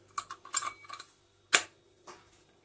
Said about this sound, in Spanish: Que encastre en ambos lados lo que es el clic por aquí.